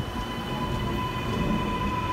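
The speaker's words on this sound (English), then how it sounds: "we have a Metro service departing platform number 2." A Sydney Metro train departs platform 2 at Chatswood station, giving a steady close rumble of rolling rail wheels with a held electric whine and a faint squeal, and no voices.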